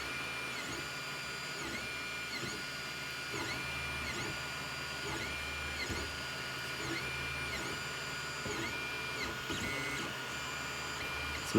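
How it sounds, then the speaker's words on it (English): A 3D printer laying down strips of plastic while printing a Minuteman missile generator part, steady motor whine with repeating rising and falling stepper tones and soft mechanical ticks, close and continuous. "So it lays down a little strip of plastic, comes back right next to it another one."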